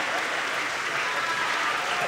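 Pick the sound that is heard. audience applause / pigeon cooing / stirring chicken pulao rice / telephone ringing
audience applause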